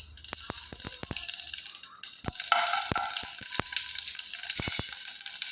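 Mustard seeds and cumin sizzle in hot coconut oil, a steady frying hiss punctuated by a scatter of sharp pops and crackles from the seeds.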